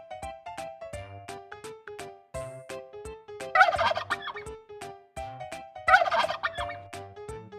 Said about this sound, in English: I'm the turkey. I may not fly high, but I sure can gobble and strut with style.